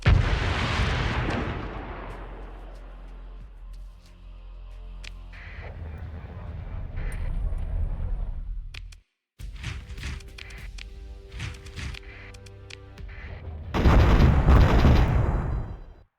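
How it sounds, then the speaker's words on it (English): Fire support bombardment pounds a military base in the space strategy game Starsector, with loud, dense rumbling blasts and crackling impacts running almost continuously, a brief silent gap midway, then a heavier burst near the end, a voice faintly underneath. "let's use fire support on their military base"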